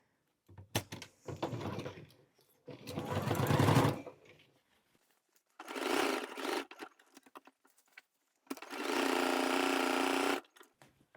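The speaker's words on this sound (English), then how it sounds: "Now I am going to sew the face into the neckline." A sewing machine stitches a facing into the neckline of an Ethel blouse, running close by in several separate bursts of steady whirring with short quiet pauses between.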